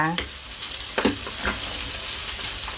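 A pot of mushroom curry with fermented fish sauce, honey mushrooms and squash bubbles with a dense, close hissing sizzle, broken by a few soft clinks and bumps, with no talking.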